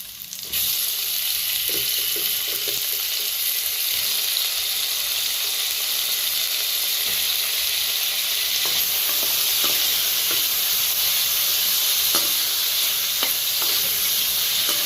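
Tomatoes frying in a pan for a Tamil-style egg curry, a steady, close, loud sizzle throughout with occasional light stirring clicks and no talking.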